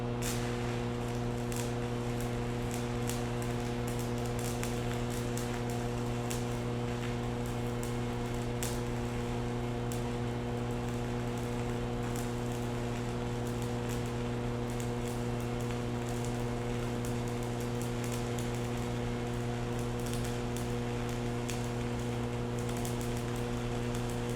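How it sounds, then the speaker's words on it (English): A stick welder running an arc on 1/8 inch steel at 60 amps: a continuous, even crackling buzz over a steady electrical hum, unbroken from start to finish. "So I'm going to be welding 1/8" steel. I'm going to start out with 60 amps."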